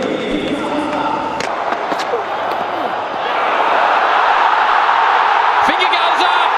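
Packed cricket stadium crowd at the India vs Australia 2023 World Cup final roaring for a wicket, a dense sustained cheer that swells louder about halfway through, under a commentator's voice.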